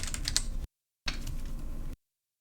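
Quick bursts of typing on a computer keyboard, two short close runs of rapid key taps separated by a brief silence.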